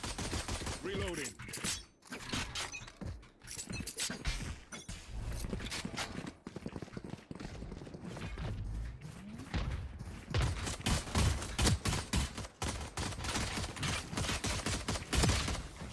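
Rapid gunfire in a Valorant practice room, with repeated sharp shots in dense bursts and volleys throughout, close and loud, with a voice talking over parts of it.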